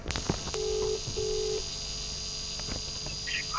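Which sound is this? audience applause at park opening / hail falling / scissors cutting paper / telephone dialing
telephone dialing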